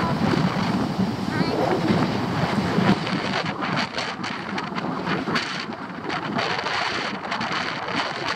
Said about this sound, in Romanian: Valurile sunt ok.